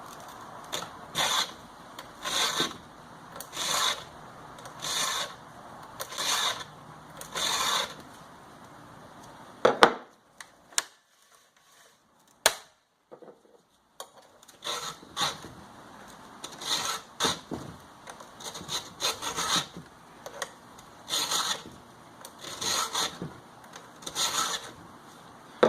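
Hand file rasping a Husqvarna chainsaw chain during sharpening, repeated steady strokes in regular bursts with a brief pause midway, close and fairly quiet.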